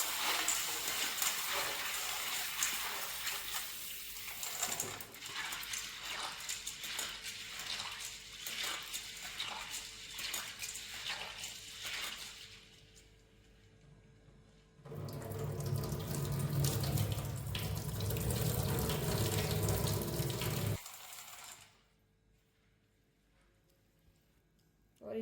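Dried ker berries being washed under a running kitchen tap, a loud steady gush of water into a sink with rhythmic splashing as the berries are rubbed, a pause, then a second strong burst of flowing water.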